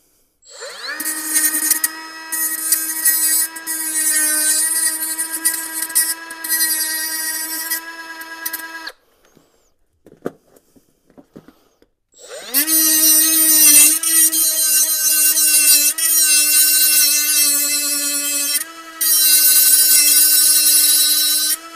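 A small, high-pitched electric rotary tool whines loudly while cutting links off a motorcycle chain on a Venom Ghost Chopper 250, running in two long bursts separated by a quiet pause with small clicks.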